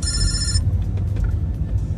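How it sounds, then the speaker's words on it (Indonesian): A telephone rings with a bright, repeating electronic trill for about half a second at the start, loud over a steady low rumble that continues after the ring stops. "Lagi bikin video, ada telepon."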